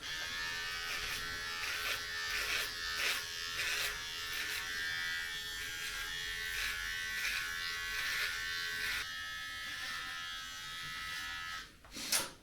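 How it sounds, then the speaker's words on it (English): Electric beard trimmer with a built-in light buzzing steadily while trimming a beard, close and continuous for the whole stretch, with a brief rustle near the end and no talking. "What I really like about this trimmer is that it has a little light on it, so you can actually see what you do."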